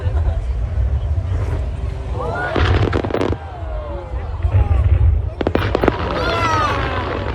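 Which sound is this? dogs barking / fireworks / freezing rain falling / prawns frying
fireworks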